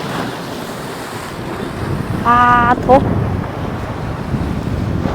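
Sea waves splash strongly in a steady, loud rushing wash mixed with wind buffeting the microphone, and a person speaks briefly in the middle.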